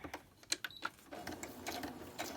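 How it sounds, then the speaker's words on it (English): A sewing machine stitching fabric for a book cover, giving short quiet bursts of rapid mechanical ticking in a calm room. "I'll do a little stitching"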